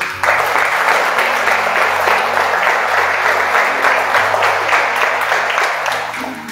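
A church congregation claps together in a sustained burst of rapid, dense applause, loud and close, tapering slightly at the end.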